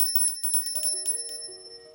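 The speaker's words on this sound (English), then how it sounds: "I love this bell." An old hand bell once owned by a maternal grandmother rings with a quick flurry of bright metallic strikes, then settles into a sustained, fading ring close by.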